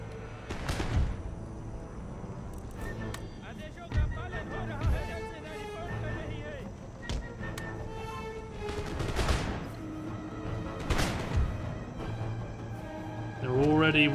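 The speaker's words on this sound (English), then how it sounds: "Lancers shoot straight for this block of artillery." Musket volleys crackle in the Empire Total War battle as lancers close on an artillery block, with several sharp bursts spread over the span and a steady murmur of battle noise beneath.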